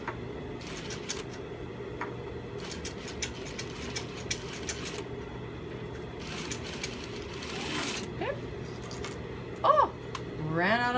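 A sewing machine stitching a neckline with interfacing runs in a steady, quiet mechanical whir, with short bursts of faster stitching and a few small clicks near the end.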